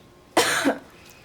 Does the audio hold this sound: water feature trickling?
no